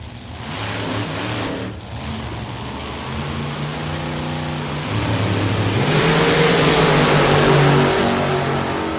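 A supercharged drag racing car roars down the strip at NHRA Maple Grove, its engine note rising as the run builds, loud and continuous with a pitch climb through gears over a dense crowd-and-track wash.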